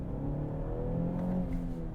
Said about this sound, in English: I stomp on the throttle